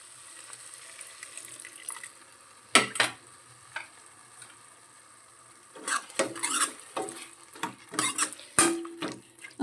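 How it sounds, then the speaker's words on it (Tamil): Water splashes into a pot of Tamil dal kuzhambu, followed by a ladle stirring and scraping the pan, in irregular bursts of clatter and sloshing between quieter gaps. "இது கூட லைட்டாக தண்ணி ஊற்றி கொஞ்ச நேரம் வேகட்டும்"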